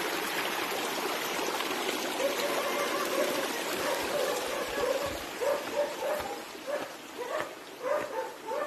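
A small, clean mountain stream near Busagak Falls in Pinamungahan, Cebu trickles steadily close by, while a dog barks repeatedly in the second half.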